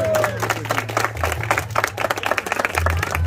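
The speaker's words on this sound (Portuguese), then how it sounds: "Então uma salva de palmas pra vocês" A crowd claps and cheers at a rap battle final in Foz do Iguaçu, a fast irregular patter of many hands, fairly close, over a low hum with scattered voices.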